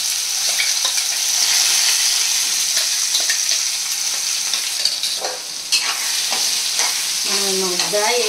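Onion and chilli paste frying in oil in a pan, a loud, steady sizzle close by with stirring scrapes throughout and a few sharper clinks near the end, no talk.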